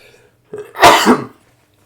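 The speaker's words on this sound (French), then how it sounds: "Pardon, j'ai éternué." A single sharp sneeze bursts out close to the microphone, preceded by a short breathy intake and followed by quiet.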